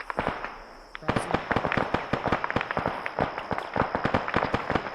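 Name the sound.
gunfire in a military shooter video game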